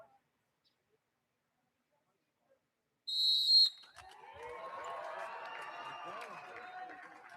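A sharp, shrill whistle blast starts the elite short track cross-country mountain bike race at a championship in a park after a near-silent pause, and a broad crowd roar with cheering and shouts rises and holds underneath.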